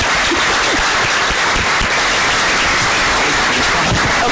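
Applause fills a hall after a roundtable discussion held for the Helsinki Commission, a loud, dense and sustained wash of clapping from a large audience that holds steady throughout.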